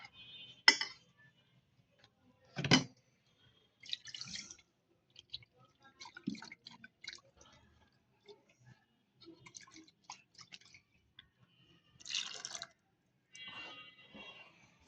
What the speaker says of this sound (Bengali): এটা দিয়ে আমরা এখন এটা ঢেলে নিচ্ছি।